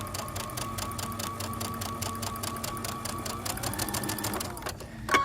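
Close, steady whir of a sewing machine running continuously as it stitches a quilt block triangle in chain piecing, the pitch shifting slightly near the end before a brief stop.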